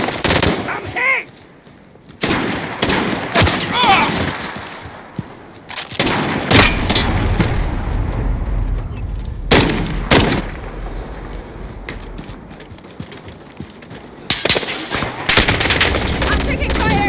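Gunfire in Call of Duty Warzone, with repeated loud bursts of machine-gun and rifle fire and booming shots spread across the stretch amid constant battle noise, and voices talking at times.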